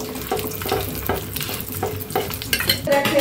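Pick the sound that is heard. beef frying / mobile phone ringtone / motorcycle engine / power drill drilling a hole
beef frying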